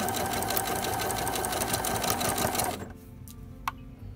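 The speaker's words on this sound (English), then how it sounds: "I'm just sewing as close to the teeth as I can." A sewing machine stitches steadily along a zipper close to its teeth for a pillow cushion cover, a loud continuous whir that cuts off near the end, followed by a faint click.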